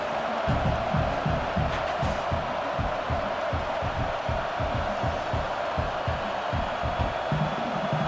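A football stadium crowd at a Michigan vs Wisconsin game roars and cheers steadily as the kicker lines up a kick attempt, a dense, sustained wash of voices with rhythmic surges throughout.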